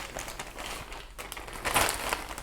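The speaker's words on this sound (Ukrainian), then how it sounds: "Тепер беру пакет" A plastic bag being handled and crinkled while wrapping it around a cut branch of a large Ficus benjamina for air layering; soft close-up rustling and crinkling that swells louder near the end.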